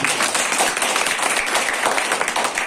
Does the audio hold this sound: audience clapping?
yes